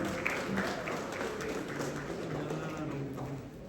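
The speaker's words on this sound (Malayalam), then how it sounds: "നന്നായി ഒന്ന് കൈയടിച്ചേ" Audience applause at a live children's fun event, a dense, steady wash of many hands clapping at moderate loudness, with crowd murmur and voices mixed underneath throughout.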